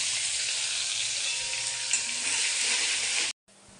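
Chopped onion hits hot oil tempered with bay leaf, dried chilli and cumin for a spiced snail curry, giving a loud, steady sizzle and fry that runs almost continuously before cutting off briefly near the end.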